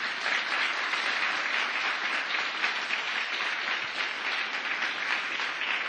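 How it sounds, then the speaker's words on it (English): Audience applause for a panel at a COP 28 session on US land and water conservation, a steady dense wash of many hands clapping at moderate level, continuous and alone throughout. "Could you please give them a round of applause?"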